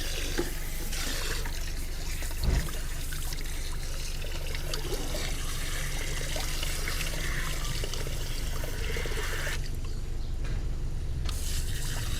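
A garden hose sprays water steadily into a clogged sink, a constant rushing splash that continues with no talking.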